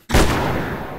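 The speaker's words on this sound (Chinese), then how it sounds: "对着自己的头开枪" A single loud gunshot rings out in a horror video game, a sharp close blast that decays into a brief booming echo.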